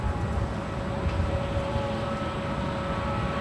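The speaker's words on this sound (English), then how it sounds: "Up next, arrival on 24 rights, right in front of the KLM Dreamliner, is Southwest Airlines Flight 21, coming in from Houston, Texas, a 737 MAX 8" Southwest Airlines Boeing 737 MAX 8 arriving on runway 24R at LAX, a steady broadband jet roar with a faint whine, held continuously and moderately loud at a distance.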